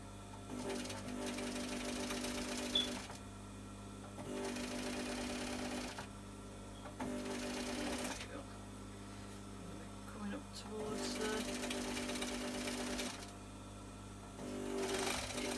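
A sewing machine stitches thick Christmas stocking fabric in several quiet bursts of rapid stitching separated by short pauses, steady and close.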